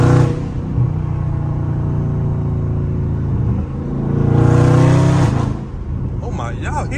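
A stage 2 tuned Dodge Scat Pack rumbles deeply from inside the cabin, surging louder under hard acceleration and dropping as it shifts gears, with a voice speaking over it.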